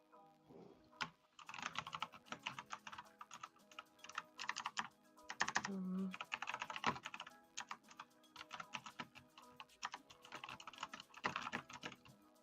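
Computer keyboard typing, with bursts of quick, uneven clacks near the mic that stop and start over about twelve seconds, along with a few soft thumps and no speech.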